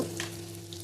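Asafoetida hits two to three spoonfuls of hot oil in a pot for a dal tempering, giving a soft, steady frying sizzle close by, with no talk.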